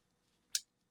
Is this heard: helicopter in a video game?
no